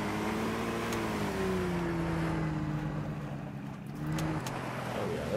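Vehicle driving in Call of the Wild: The Angler, a steady engine drone with a shifting motor tone that rises and falls across the stretch, heard alone without talk.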